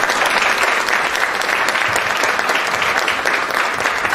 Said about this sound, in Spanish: Les pido que le demos un aplauso y le dejemos el aplauso.